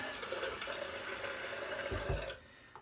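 Tap water runs steadily into a sink to add to shaving brush lather, a close, continuous splashing hiss that cuts off abruptly near the end.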